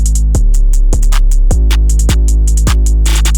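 A heavily distorted 808 bass beat made in FL Studio, booming bass hits landing about every half second under crisp rapid hi-hats and snappy percussion, loud and saturated, with no voices.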